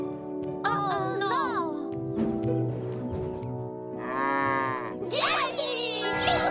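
Cartoon-style cattle moo in a children's animated train show, several drawn-out lowing calls spread across the clip over background music, with voices talking.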